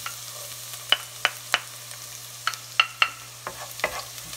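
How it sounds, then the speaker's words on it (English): Garlic fries in a pot for a goat stew, a quiet sizzle under a series of sharp clicks and taps from a utensil against the metal, spaced irregularly. "First, you just need to put our garlic."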